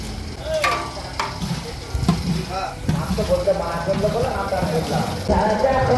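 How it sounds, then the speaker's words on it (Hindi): Onions frying in hot oil in a large handi for a massive beef biryani, a bubbling sizzle with stirring and scraping clatter, and someone talks over it. "जैसा कि हमारा ऑनियन का ऑयल गर्म हो गया है"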